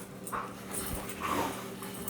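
A dog whimpering and panting close by, two soft whiny cries with quick breathy panting between them, fairly quiet against light background noise.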